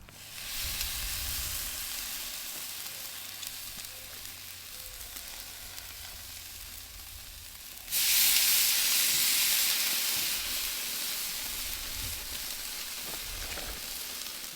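Marinated chicken sizzles on a hot charcoal grill grate with the lid and vents open, a steady frying hiss that jumps louder partway through as more pieces land, continuing without talk.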